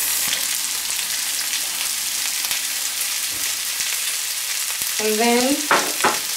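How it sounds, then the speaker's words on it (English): Sausage fries in a pan with onions, garlic, parsley and spices, giving a steady bright sizzle with stirring scrapes, and a brief voice near the end. "we're gonna fry everything together."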